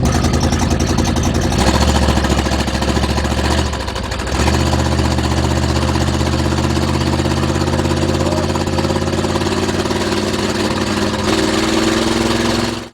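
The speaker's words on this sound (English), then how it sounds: "if you have an ear for engines, you'll know that it's still running rough" A tired, worn car engine runs steadily up close for the whole stretch, its idle uneven and lumpy and still running rough, with a brief dip in the middle before it settles back.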